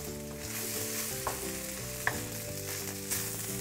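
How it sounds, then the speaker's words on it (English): Seitan, shallots and garlic sauté in a pan with a steady sizzle, while a few sharp clicks and clinks from a utensil stand out above it. "we want to saute this for about 5 minutes until the shallots and the garlic"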